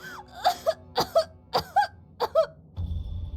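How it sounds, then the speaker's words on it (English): A game character in Winter's Wish coughs in a rapid string of about six harsh, strained coughs, each sharp burst followed by a brief gap, then a low rumbling ambience takes over. "Cough, cough, cough."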